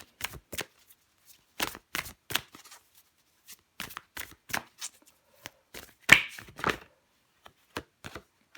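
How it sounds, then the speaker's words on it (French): Tarot cards are shuffled and drawn in a quiet room, producing a series of short, crisp riffling and slapping bursts with brief pauses between them. "je prends encore une carte pour vous"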